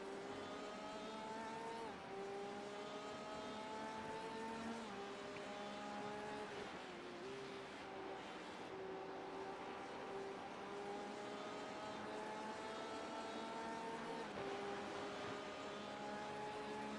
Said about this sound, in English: As faster cars approaching, this group includes the class leader.